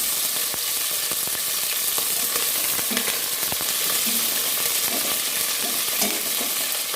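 Onions fry in hot oil for a Kenyan matoke dish while a spoon stirs them, making a continuous loud sizzle broken by scraping and clicking strokes against the pan.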